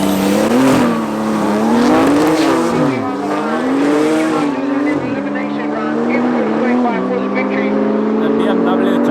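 BMW and Porsche race cars at a drag race at Tarlton International Raceway, with loud, close engines revving and rising in pitch through a launch, then fading a little; a commentator talks over them.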